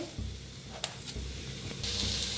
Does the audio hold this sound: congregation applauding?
no